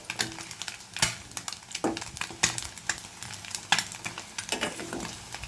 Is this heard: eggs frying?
yes